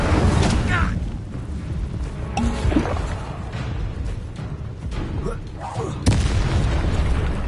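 Incendio fire spells cast in Hogwarts Legacy, each a booming whoosh of flame, several loud bursts spread over game combat noise with a voice speaking throughout.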